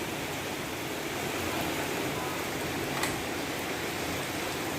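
Rain falls outside during a windy morning storm, a steady broadband hiss heard from indoors at moderate, even loudness with no talk over it.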